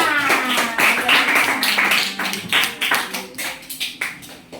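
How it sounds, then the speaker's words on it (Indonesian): Classroom of pupils clapping for a classmate, a dense, fast patter of many hands that holds steady and then thins toward the end, with a faint tonal hum underneath. "beri tepuk tangan untuk Nisa."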